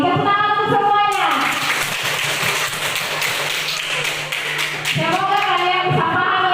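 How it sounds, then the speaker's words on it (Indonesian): A class of children claps their hands for the group, a dense burst of clapping running for several seconds between stretches of voiced sound at either end. "Tepuk tangan untuk semuanya."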